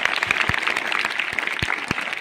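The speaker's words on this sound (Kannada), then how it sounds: "ಎಲ್ಲರೂ ಜೋರಾಗಿ ಚಪ್ಪಾಳೆ ತಟ್ಟ್ರೆ" An audience claps at a blessing ceremony for orphaned girls who performed a harvest song and dance, giving dense, steady applause with sharp individual claps standing out throughout.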